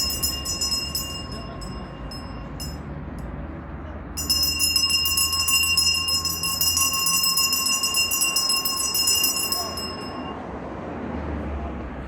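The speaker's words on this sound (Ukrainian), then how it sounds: "Ось і пролунала у новому навчальному році чарівна мелодія шкільного дзвоника" A school bell melody rings out at a Ukrainian school assembly, a bright chiming tune with steady tonal notes that starts briefly, pauses, then plays loudly for several seconds before stopping, with no talking over it.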